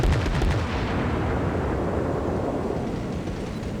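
Naval cruiser gunfire in a warship video game: a heavy boom at the start followed by a long rolling, rumbling decay, loud and close with no talk.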